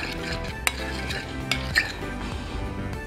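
Olive oil mixture for a muffuletta olive salad being stirred in a bowl, a steady scraping swirl with a few sharp utensil clinks against the side, close and alone.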